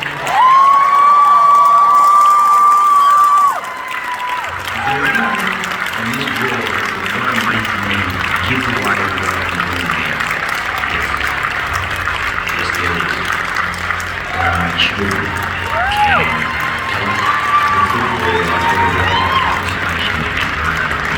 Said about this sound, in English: with a huge wildlife warrior worthy round of applause to Terri, Bindi and Robin.